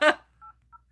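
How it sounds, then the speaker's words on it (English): Telephone keypad tones sound as a number is dialed: two short dual-pitched beeps spaced apart, following a brief burst of voice at the start, with quiet between. "I am going to dial his telephone number right now"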